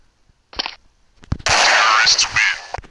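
Bursts of automatic rifle fire in the shooter game Special Forces Group 2, with a short early burst, scattered single shots, then a loud sustained volley over the final second and a half.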